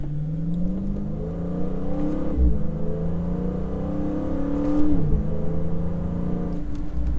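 A Dodge SRT with a quiet stock exhaust revs and whirs through a drift, its engine note rising and falling in long sweeps, with brief surges near the middle and end.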